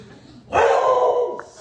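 A dog barks from within a comedy audience at a brewery: one sharp, loud outburst that stretches across most of a second, heard close over a murmuring crowd.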